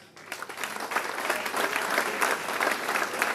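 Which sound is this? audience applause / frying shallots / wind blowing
audience applause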